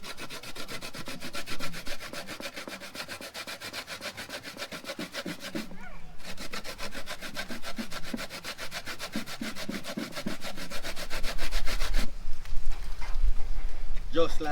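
A coconut is grated by hand outdoors, giving steady, rhythmic rasping strokes that carry on without pause, with a voice talking over the scraping throughout.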